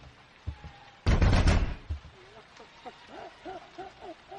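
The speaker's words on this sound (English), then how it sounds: "suddenly I heard an even harder pound on the door" Hard pounding on a door in a horror audio drama: a sudden heavy burst of thudding blows, loud and close, followed by fainter tonal sounds that may be a woman's cries.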